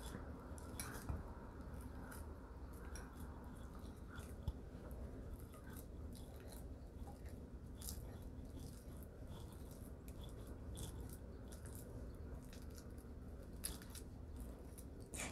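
Ripe bananas being mashed with a fork for an eggless chocolate banana cake, giving a steady run of soft, wet squishing and light clicks of the fork against the bowl, close and alone without talk.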